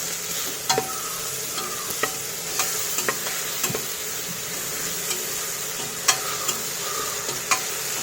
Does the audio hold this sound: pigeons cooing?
no